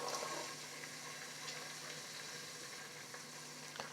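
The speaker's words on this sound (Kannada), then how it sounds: "ಒಂದು ಗೆಡ್ಡೆ ಈರುಳ್ಳಿ ಉದ್ದಾಗ ಹಚ್ಕೊಂಡಿದ್ದೀನಿ ಅದನ್ನು ಹಾಕೋತಾ ಇದ್ದೀನಿ ಬಟಾಣಿ ಹಾಕೋತಾ ಇದ್ದೀನಿ" Sliced onion and green peas fry in a pan for vegetable pulao, making a soft, quiet sizzle that stays steady throughout, with a few faint clicks.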